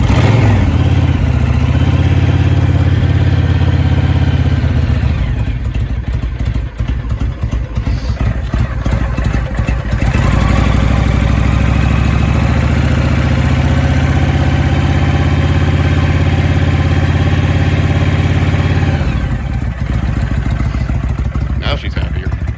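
A 2005 Honda VTX1300R motorcycle idles loudly from a cold start on choke, its steady low engine rumble swelling with a couple of light throttle blips.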